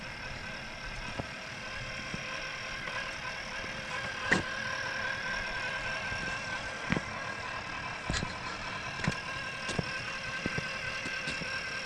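An RC snowplow truck's small electric motor runs steadily at low throttle, giving a continuous whine with faint clicks and brief knocks scattered through it.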